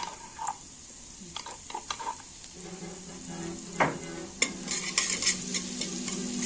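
Crushed garlic cloves and coriander sizzle in two spoonfuls of oil in a pot. A soft continuous frying hiss is broken by scraping stirs and light clinks against the metal, growing busier toward the end.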